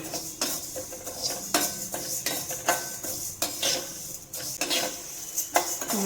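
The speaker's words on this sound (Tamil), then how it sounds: "நல்லா கைவிடாமல் அப்பப்போ கிளறி விட்டுக்கிட்டே இருக்கணும்" Ukkarai, a Chettinad sweet, stirred in a pan while it browns, giving repeated close scraping and clinking strokes of a metal utensil against the pan, steady and unhurried, with no voices.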